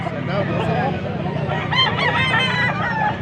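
A young rooster, a stag about eleven months old, crows over a steady background murmur of a busy rooster market in Angeles, Pampanga, with a faint voice mixed in.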